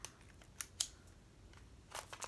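Scissors cut into the packaging of a cosmetics mystery box, giving a few faint, sharp snips spread out with quiet pauses between them.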